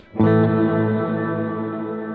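A single electric guitar note rings out through a Strymon Blue Sky reverb pedal set all the way up, sustaining with a washy, reverberant tail that slowly fades.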